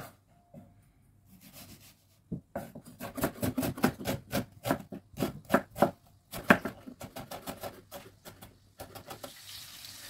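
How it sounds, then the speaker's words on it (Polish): A knife dicing an onion on a cutting board, a quiet run of quick, evenly spaced chopping knocks that start after a short pause and continue with small gaps, no talking. "Teraz kroję cebulę,"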